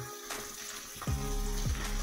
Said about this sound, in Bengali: পেঁয়াজ কলিটা একটু ভাজা হয়ে যাক, তারপরে আমি ক্যাপসিকামটা দিয়ে দেবো।